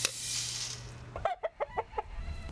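Chickens on a hobby farm cluck in a quick series of five or six short, moderately loud calls, following a steady rustling outdoor background.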